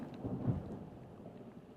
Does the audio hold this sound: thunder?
yes